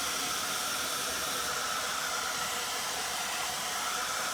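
A hair dryer blows steadily to dry paint on a gnome yard decoration, giving a constant loud broadband whoosh and hiss throughout with no talking.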